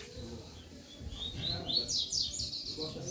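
Coleiro and papa-capim songbirds, about thirty caged birds kept among friends, sing in bright rising chirps and quick whistled phrases over a busy background murmur of people nearby.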